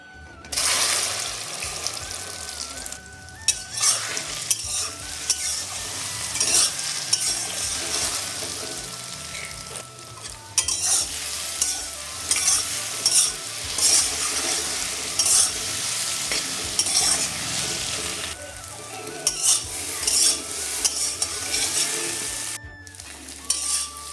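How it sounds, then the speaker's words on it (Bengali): Soybean chunks coated in raw egg fry in hot oil with a steady, close sizzle. Stirring scrapes and clatters come and go throughout, with a couple of brief pauses. "এবার এই সয়াবিনগুলো তেলের মধ্যে ভেজে নেব"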